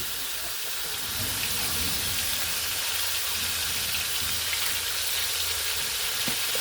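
Glass noodles hit a hot pan of stir-fried minced pork with holy basil, setting off a loud, continuous sizzle that holds steady at close range without talk.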